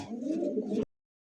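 A pair of pigeons coos close by in a low, throaty, continuous run lasting under a second before cutting off into silence.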